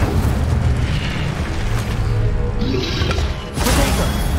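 Incendio fire spell cast in Hogwarts Legacy, a dense roaring burst of flame and booming impact that fills the clip loudly, dipping briefly before a second fiery blast near the end.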